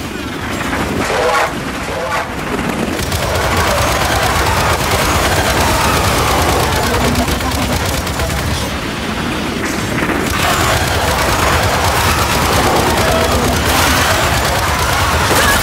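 Mounted turret gunfire in Gears 5, a sustained, heavy stream of rapid shots and explosions forming a loud, dense wall of battle noise, with voices shouting in places.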